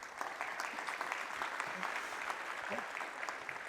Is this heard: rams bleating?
no